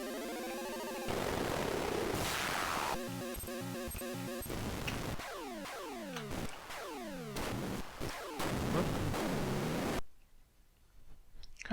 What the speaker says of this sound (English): You can just go around shooting things